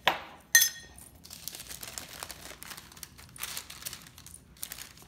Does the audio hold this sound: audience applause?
no